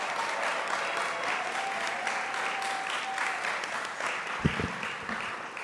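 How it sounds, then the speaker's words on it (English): An audience at a student symposium applauds the core committee members, producing sustained, even clapping from a sizable crowd with a couple of louder nearby claps near the end. "give them a round of applause"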